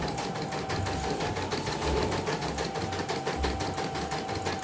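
Embroidery machine with an erratic bobbin under repair stitching steadily, a fast continuous mechanical clatter with a rhythmic low thumping pulse, close and even throughout.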